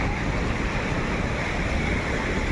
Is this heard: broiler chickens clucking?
no